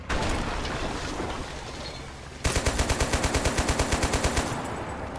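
A .50 cal machine gun mounted on top of an M500 vehicle in the game Total Conflict: Resistance fires, first with a dense roar, then a loud, rapid, evenly spaced burst of heavy shots close by, no voices.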